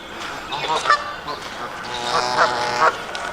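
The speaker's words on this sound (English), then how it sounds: "Some more geese just flew in." Several geese honk in loose bursts, fairly close, with a few louder calls standing out over a busy outdoor background.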